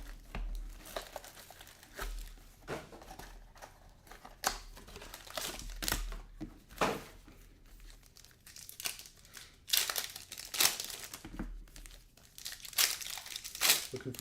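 A Pokemon Journey Together booster bundle is opened up close, with bursts of crinkling plastic wrap, tearing foil packs and rustling cardboard in irregular clusters, with faint talk now and then.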